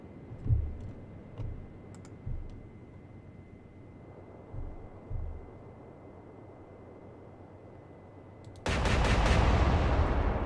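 Naval gunfire in the video game Atlantic Fleet, German campaign with the Bismarck: four muffled booming shots spaced a second or two apart, then a sudden loud, sustained roaring blast.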